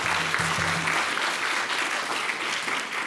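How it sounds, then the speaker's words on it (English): Steady audience applause for John Wang, founder of a business development center, at an opening-remarks event, a dense continuous clapping wash with a brief low hum early on. "Please give John Wang a round of applause."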